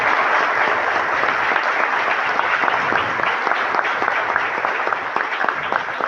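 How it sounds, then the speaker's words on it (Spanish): A crowd at a formal municipal council session in Zea breaks into sustained, dense applause that stays loud and even throughout, with no voices over it. "Un aplauso para ustedes"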